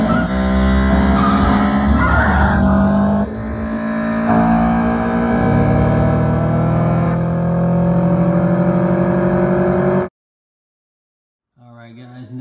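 Hot Wheels 1/64 die-cast cars, a 1970 Chevelle SS and a Mitsubishi Lancer Evo, race along a track with a loud continuous rolling rumble that stops abruptly near the end.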